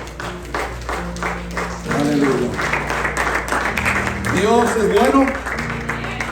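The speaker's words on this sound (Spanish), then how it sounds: "¿Por qué no le das fuerte palmas al Señor?" A church congregation claps hands in praise during a service, with brisk rhythmic clapping that swells partway through. A voice calls out over the clapping.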